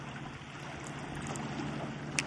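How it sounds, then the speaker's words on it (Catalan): Boats come and go off the coast of Mallorca, heard as a soft, steady wash of water and distant engine rumble near a rocky shoreline, with no voices. "dels barcos que van i venen"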